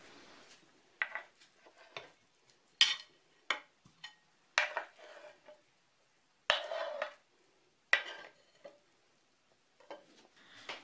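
Cooked pork tongues are lifted onto a plate in a home kitchen: a series of sharp clinks and clatters of utensils against dishware, spaced irregularly with quiet gaps between, close and moderately loud, no talking.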